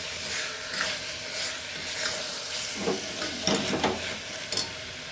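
Masala for mutton gravy sizzles and crackles in a hot pan while a spoon scrapes and stirs it in uneven bursts, close and fairly quiet, with no voices.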